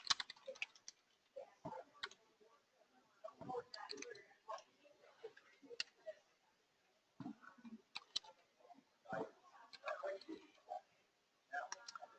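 Card details are typed on a computer keyboard in quick, uneven bursts of light clicking keystrokes separated by short pauses, close but quiet.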